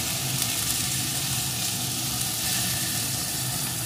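Chopped potato and slit green chillies fry in a pan with a dense, steady sizzle, close and continuous throughout, with no talk.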